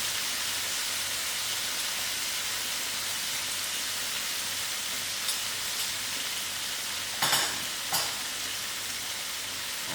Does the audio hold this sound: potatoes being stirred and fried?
yes